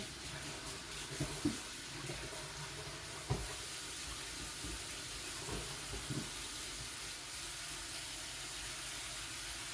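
Hot soapy water runs steadily into a kitchen sink, a soft continuous hiss with a few faint clunks, fairly quiet and without voices.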